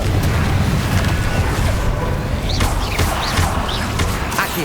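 The Confringo explosive spell in Hogwarts Legacy bursts with a loud, dense booming blast that sustains a rumbling roar throughout, with crackling debris-like hits layered on top.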